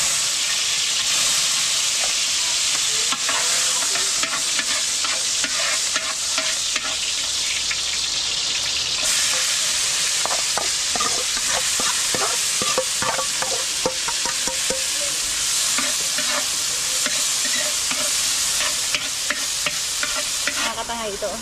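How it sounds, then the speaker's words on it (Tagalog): Garlic and onion sauté in hot oil for pancit, a steady, close sizzle with rapid crackling and stirring scrapes running throughout, with no talking. "gigisahin na natin ang bawang at sibuyas para sa ating pansit"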